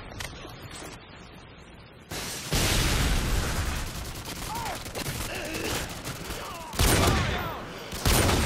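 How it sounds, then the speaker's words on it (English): Modern Warfare 2 multiplayer match with Predator missile strikes, heavy explosions and bursts of gunfire layered into a loud, continuous battle din, with sharp blasts erupting at several points. "Friendly Predator missile incoming."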